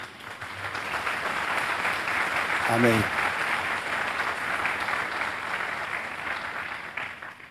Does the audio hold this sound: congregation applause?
yes